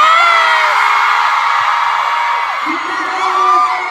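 A concert crowd at a fan event screams and cheers loudly and without a break, a dense high-pitched roar that swells and fades slightly.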